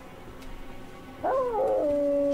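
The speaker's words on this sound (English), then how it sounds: "Now, the white dogs are a little bit more dangerous." White dog howling in the Elden Ring video game: a low ambient bed, then a single loud, wavering howl that rises and bends before settling into a sustained tone near the end.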